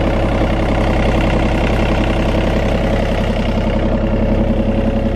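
A small 3-cylinder diesel engine on a 2020 John Deere 30G compact excavator idles steadily nearby, with an even, rapid knocking chug that holds constant throughout.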